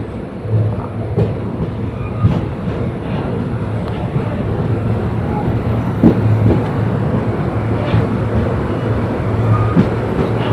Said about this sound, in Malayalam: ഐലൻഡ് എക്സ്പ്രസ് ക്രോസ് ചെയ്തുകൊണ്ടിരിക്കുകയാണ് നമ്മൾ എരണിയലിൽ